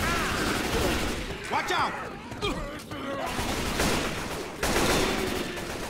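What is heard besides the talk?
gunfire in Left 4 Dead video game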